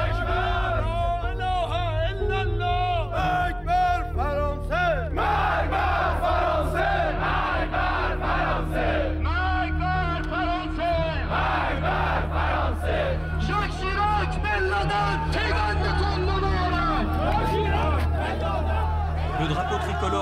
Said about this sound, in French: Une centaine de miliciens du régime se sont donné rendez-vous pour protester contre la position de la France